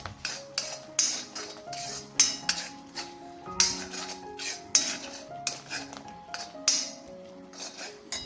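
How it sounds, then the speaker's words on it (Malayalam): Metal spoon clinks and taps against a pot or jar while stirring bilimbi pickle mixture after boiling water is added, a steady series of close, bright knocks repeating about once a second. "വെള്ളം ചേർത്ത് നന്നായിട്ടൊന്ന് ഇളക്കി കൊടുക്കാം"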